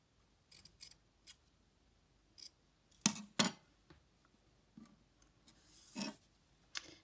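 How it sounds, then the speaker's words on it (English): Scissors snip ribbon for a paper octopus craft in a series of short, crisp cuts spaced irregularly, with a couple of louder close snips and light rustling of material between them. "You can trim your ribbon as well."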